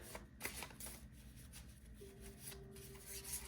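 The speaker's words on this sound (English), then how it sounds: "We'll pull one more card." Tarot cards shuffled by hand for a card reading, a soft, quick, continuous riffling and rubbing that runs throughout, close and quiet with no talking.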